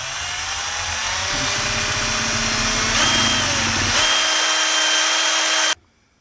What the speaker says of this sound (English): I'll just turn the drill on